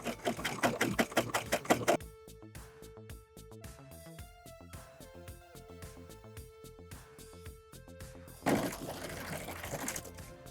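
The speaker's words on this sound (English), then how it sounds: "So we're going to serge the long sides to the short sides to connect it there." Serger stitching rib knit sweater fabric, with rapid rattling bursts at the start and end and quieter handling in between, close and fairly soft.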